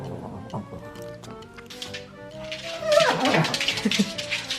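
Small dogs whimper and yip in thin, high, wavering cries, close and fairly loud, with the whining growing busier toward the end while someone speaks faintly beneath.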